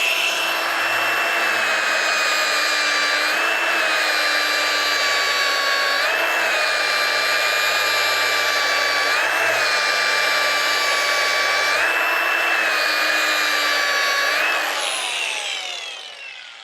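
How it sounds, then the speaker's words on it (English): A power grinder with a sanding pad whines steadily at high pitch for a long stretch, its tone dipping slightly every few seconds as the pad presses on a stainless steel butt weld, then spinning down. "Let the actual sanding pad do the work"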